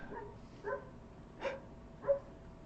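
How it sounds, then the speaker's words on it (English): A dog named Franklin gives three or four short, sharp barks spaced about half a second apart, faint and somewhat distant against a quiet background. "Franklin just barks every time he goes outside now"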